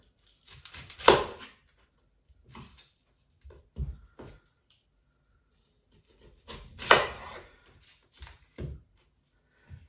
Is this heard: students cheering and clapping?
no